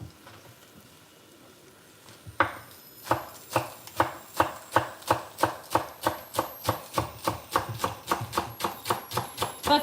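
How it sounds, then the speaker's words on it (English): A knife chops spring onion on a board in a steady, quick rhythm of sharp, close taps that starts after a brief pause and continues evenly to the end. "Let me quickly chop the spring onion."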